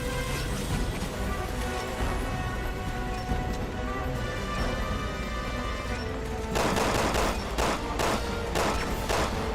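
Rapid gunfire from a Resident Evil 6 boss fight against Ustanak: sustained automatic bursts over game music, then sharper, louder shots cracking in a quick irregular rhythm near the end.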